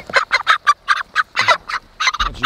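Cornish cross meat chickens, a fast-growing broiler breed raised on forage, cluck in a quick run of about a dozen short, close bursts, with no talk over them.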